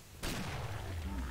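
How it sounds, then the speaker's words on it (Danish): Gunfire in the video game Killing Floor, a sudden loud burst that cuts in and then holds as a continuous roaring wash of shots without letup. "Jeg blev skudt på døren, mand."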